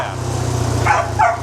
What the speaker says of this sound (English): Sky likes to bark at tires